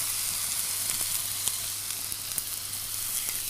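Sirloin steak fries steadily in a hot pan, a dense continuous sizzle with small pops and crackles scattered throughout, close and even in loudness, with no talking.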